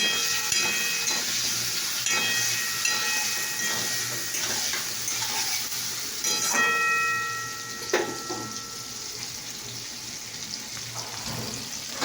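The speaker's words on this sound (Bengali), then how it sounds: "এবার আমার দেখি ভাজা কতটা হলো পটলটা" Pointed gourd frying in a pan gives a steady, loud hissing sizzle throughout, with occasional clinks and scrapes of a utensil.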